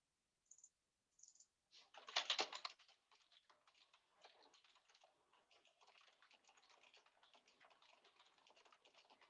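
Typing on a computer keyboard while formatting text: a few isolated key clicks, a brief louder flurry, then a steady stream of quiet, quick keystrokes, close and faint with no talk.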